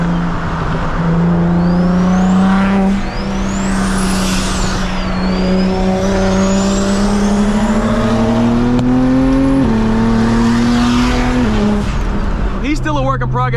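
BMW 335i fitted with a big single turbo, loud close engine drone rising and falling through revs with a turbo whistle sweeping overhead, sharp crackling pops near the end.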